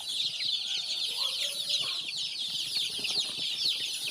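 Young chicks cheep and cluck steadily in a cage lined with rice hulls while it is being cleaned, a dense, continuous chorus of high chirps with faint rustling underneath.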